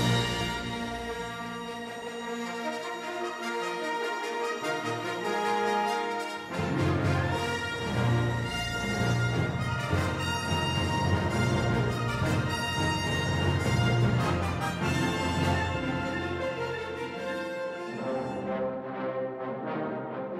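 A full orchestra plays a film's main theme, recorded in 1976, a loud and continuous passage with sustained brass and strings that swells midway and thins out near the end.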